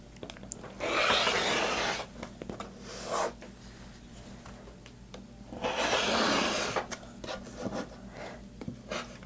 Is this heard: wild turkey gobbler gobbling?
no